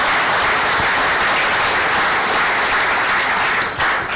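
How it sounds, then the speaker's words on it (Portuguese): Sustained applause from an audience at a live debate, steady and dense throughout with a brief dip near the end. "Uma salva de palmas."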